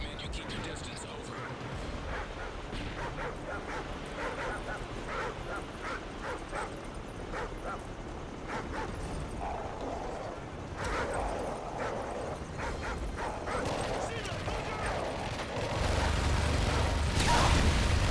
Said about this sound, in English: Attack dogs outfitted with explosives are in your vicinity.